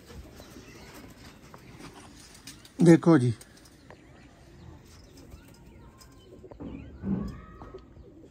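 Pigeons coo close by, a clear throaty burst in the middle and a softer one later, with a person speaking briefly and background noise.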